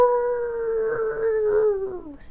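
Boars in a video game let out a single long, wavering howl that falls in pitch at the end, up close and alone.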